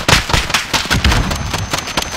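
Grenade blast in Call of Duty MW, a loud burst of explosive noise with crackling debris and repeated sharp pops through the clip, close and dense, with a faint voice underneath.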